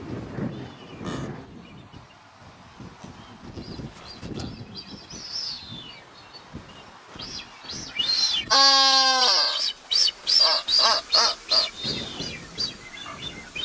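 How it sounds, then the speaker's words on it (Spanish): Blue-footed boobies call at a nesting colony on rocks in the Galápagos: a loud, drawn-out harmonic cry rises midway, followed by a run of shorter, repeated calls over soft ambient noise. "Aves como estos piqueros de patas azules o las que anidaban sobre las rocas"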